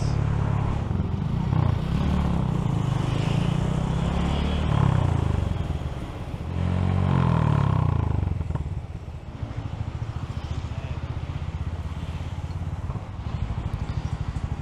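A Honda Grom motorcycle rides through Bangkok, its small engine giving a steady close drone with a couple of brief rises and dips in pitch, then a rougher, uneven patter toward the end.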